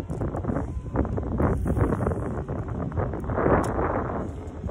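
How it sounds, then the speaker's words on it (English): Strong gusty wind while fishing buffets the microphone, a loud rumbling roar that swells and eases without any talking. "it's a windy day, man"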